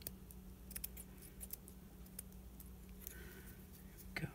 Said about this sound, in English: I'm gonna press my scissors right up tight against them as I go, so that we're cutting the strings right next to the body